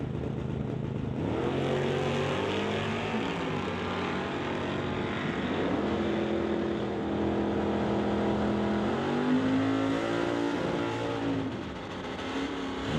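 A drag racing Ford Mustang at a drag strip event, its engine roaring loud and steady as it launches and pulls away down the track, with the pitch rising and shifting throughout.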